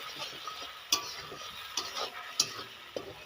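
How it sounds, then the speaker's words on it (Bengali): Aubergine and potato chutney is stirred with a metal spatula in a pan, giving a faint background sizzle and four crisp scraping taps at roughly even intervals. "আর একটু খন্তি দিয়ে নেড়ে নেব।"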